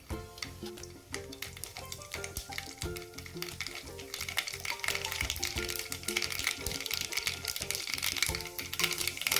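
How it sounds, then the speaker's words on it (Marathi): Mustard seeds splutter in hot oil in a kadhai, a dense crackling and popping that grows louder over several seconds, with stirring noises mixed in and background music. "आपलं तेल गरम झालेलं आहे पण त्यात एक चमचा मोहरी घातली"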